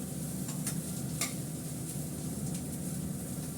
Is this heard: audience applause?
no